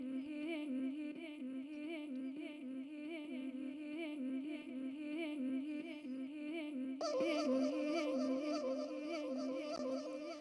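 Vocal sample glitched up with the Granulator instrument in a track, a dense stuttering, warbling texture that jumps to a brighter, louder layer partway through, quiet and continuous with no talking.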